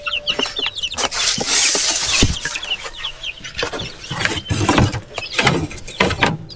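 Chicks and chickens clucking and peeping in a backyard coop, busy overlapping calls and sharp chirps with occasional rustling and clanks, close and fairly loud, no talking.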